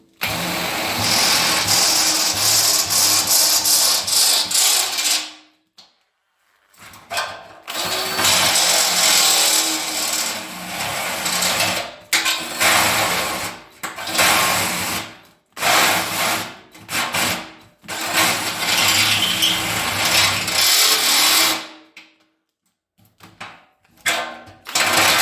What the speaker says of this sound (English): So I'll get them drilled out now.